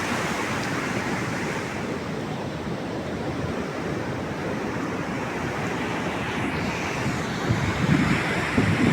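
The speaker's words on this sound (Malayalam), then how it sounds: "തിരക്ക് കുറവൊന്നുമില്ല കേട്ടോ. നല്ല തിരയാണ്." Continuous roar of sea surf breaking on the shore, steady and loud, with a gusty wind rush over the microphone and no voices.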